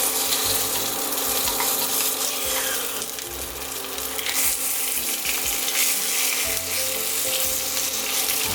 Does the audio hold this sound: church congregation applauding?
no